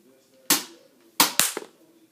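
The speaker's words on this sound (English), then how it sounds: "I know this one will shoot." Three sharp pops of a Nerf toy gun firing, close and fairly loud, the first alone and the last two in quick succession, with a faint rattle after the final shot.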